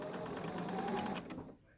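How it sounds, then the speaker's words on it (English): A sewing machine runs steadily as half square triangle quilt pieces are chain pieced one set after another, its motor a continuous close hum that stops abruptly near the end. "This is called chain piecing when you have sets going through one after another."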